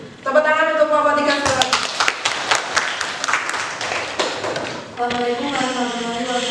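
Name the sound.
applause for a presenting group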